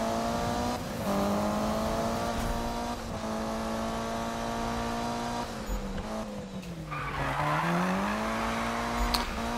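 A race car engine in a Need for Speed race holds a steady high-pitched drone, then dips and climbs again as the driver shifts, with a brief tire squeal near the end.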